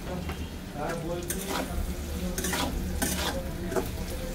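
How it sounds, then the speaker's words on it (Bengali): Poppy seeds fry in a pan with browned potatoes, giving a steady low sizzle, with a spoon or spatula scraping and clinking at intervals close by. "পোস্তটা হালকা ভাজা হবে"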